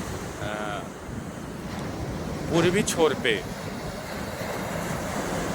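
Ocean surf on Puri beach on the Bay of Bengal washes in a steady, windy roar, while someone speaks over it close to the microphone.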